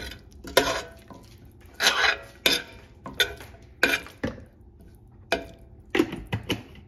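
Spiced potato rice being stirred in a pot, a Hyderabadi aloo tahari, with a spoon scraping and clinking against the pot in short irregular bursts over a quiet background.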